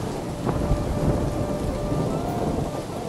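Steady rain falls on a thatched mud house with a low rumble of thunder underneath, a continuous wash of sound with no voices.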